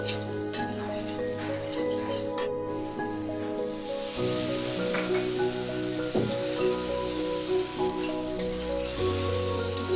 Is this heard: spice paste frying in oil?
yes